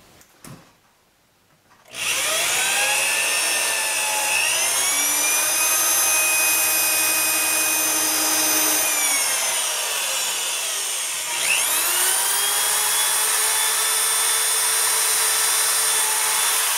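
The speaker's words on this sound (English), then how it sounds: "I'm going to go around with a drill and a bit, and I'm going to drill pilot holes" A power drill whines steadily at high speed while drilling pilot holes in a drawer, pitch dipping briefly and recovering, close up and loud with no talking.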